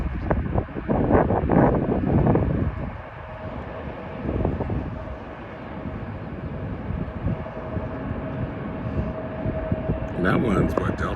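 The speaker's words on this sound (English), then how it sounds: "The planes come this way and take off this way." An airliner at LAX roars during takeoff, a broad, rumbling jet engine sound heard from a distance amid wind noise on the microphone, with people talking over parts of it.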